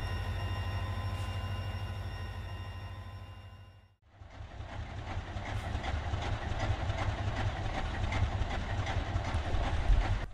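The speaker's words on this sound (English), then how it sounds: "Our train is being led by two B&LC Alco locomotives" Freight train led by two B&LC Alco locomotives: a steady rumbling drone that briefly drops out, then returns as broadband rolling rail noise with clatter, building slightly louder toward the end.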